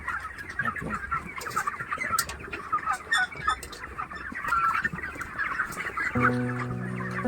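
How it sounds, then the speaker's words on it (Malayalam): Chickens cluck and chatter in a poultry coop set within a nutmeg plantation, many birds overlapping at close range with steady background farm noise, a brief tonal hum entering near the end. "ഇനി നമ്മൾ പോകുന്നത് കുറച്ചുകൂടെ വലിയ കോഴിക്കുഞ്ഞുമാരെ കാണാനാണ് ജാതിത്തോട്ടത്തിൽ തന്നെയാണ് ആ കൂടുന്നത്"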